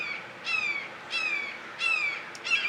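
Four loud, harsh bird calls repeat at roughly even intervals, each a descending squawking cry like a gull's or a falcon's, sounding outdoors and fairly close against a quiet background.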